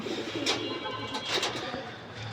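Pigeons, a flock of around thirty kept at a home loft, give soft repeated coos close by, a few throaty calls rising over a low background hum.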